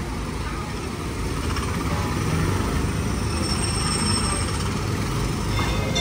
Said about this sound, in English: Not just the engines, but the smashing of the center rail.